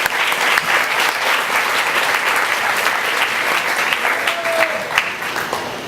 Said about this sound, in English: So if we can give them a round of applause, I think that'd be fantastic.